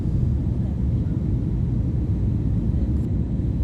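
Jet airliner descending to land at Yerevan airport in Armenia, heard from inside as a steady, low cabin rumble that stays constant and fairly subdued, with no voices.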